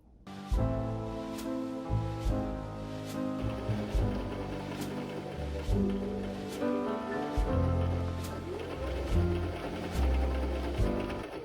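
A sewing machine stitches quilted tote bag side and bottom pieces together, its motor humming in bursts with a regular ticking needle rhythm, pausing briefly between runs.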